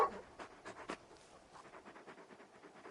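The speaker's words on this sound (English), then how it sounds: "You're just a big puppy, aren't you? A very big puppy." Large video-game dog in Final Fantasy XVI panting, a rapid, rhythmic series of soft breathy huffs, close and quiet, steady for a few seconds.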